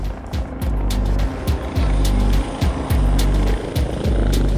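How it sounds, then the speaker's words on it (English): Steady, loud rotor thumping with a rhythmic chop, dominating throughout as an air ambulance helicopter descends close by to land on a motorway carriageway. "we're just trying to get the helicopter landed"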